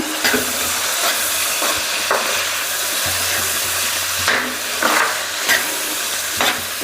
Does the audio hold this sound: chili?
yes